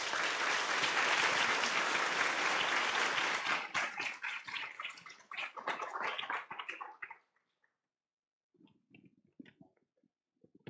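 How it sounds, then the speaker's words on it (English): Loud, dense applause from a lecture-hall audience welcoming Nobel chemistry laureate Professor Brian Kobilka, sustained for several seconds, then thinning into scattered claps and dying away, with a few faint stray sounds near the end. "Please join me in a warm round of applause as we welcome Professor Brian"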